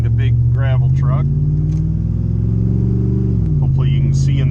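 A car rolls along pavement behind a big gravel truck, its steady low engine drone and road rumble running throughout, with a voice talking over the first part.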